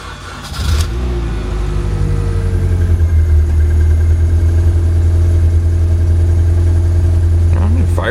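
A Mini Cooper R50 engine cranks and fires up after a fuel filter replacement, catching within the first second and then settling into a loud, steady idle heard close by.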